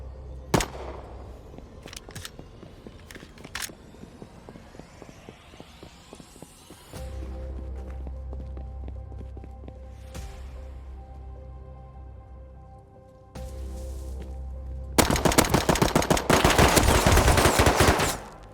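Gunfire rattles through a shootout in the video game Rust: scattered single shots and short automatic bursts give way to a sustained mechanical drone, then a final loud, rapid-fire volley closes the exchange at close range.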